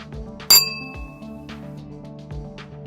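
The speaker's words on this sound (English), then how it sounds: "If you hit the glass lightly with a spoon, it will ring like a bell at its resonant frequency." A spoon taps a wine glass once, giving a bright, clear ring that fades slowly over a soft background hum.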